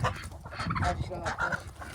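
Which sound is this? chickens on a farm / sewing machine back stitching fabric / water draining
chickens on a farm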